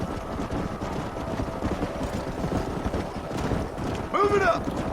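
Horse hooves clip-clop steadily in Red Dead Redemption 2, running under continuous game noise, with a brief horse whinny near the end.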